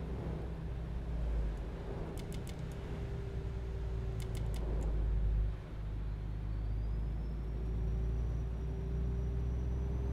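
A 2020 MAN TGX truck engine in Euro Truck Simulator 2 hums low and steady, a constant droning rumble at moderate level with faint clicks and a brief dip midway, no speech.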